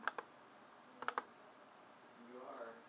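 A few quick button presses in small clusters, crisp plastic clicks, with a quiet voice murmuring faintly near the end.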